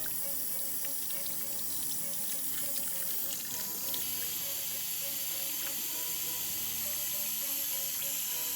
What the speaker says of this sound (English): Time for another thorough rinsing.